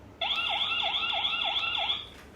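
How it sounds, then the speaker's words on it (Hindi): A security camera's electronic siren wails in rapid repeating swoops, loud and steady for about two seconds before cutting off. "और सायरन भी चला सकता हूँ मैं।"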